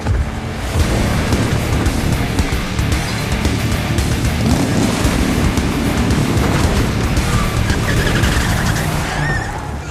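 A car engine roars steadily with tires hissing and skidding in the video game Zenless Zone Zero, a continuous loud driving sound with game-like effects throughout.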